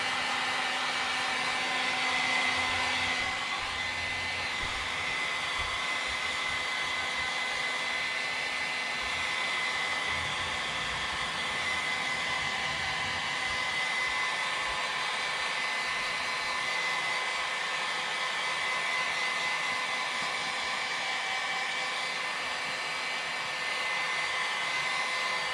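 A heat gun or hair dryer blows warm air onto a freshly painted Arrma Limitless RC car body in cold weather, giving a steady, continuous whooshing whir with no talking.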